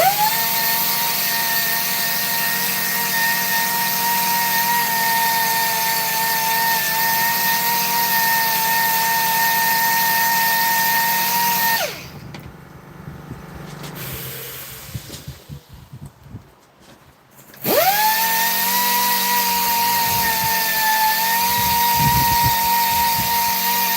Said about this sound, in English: I'm just going to sand the bottom.